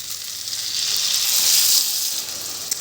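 Eel pieces fry in a pan over a high flame with juice of bhedailota and narasingha leaves, giving a steady, close sizzling hiss that swells slightly midway and runs unbroken with no talking.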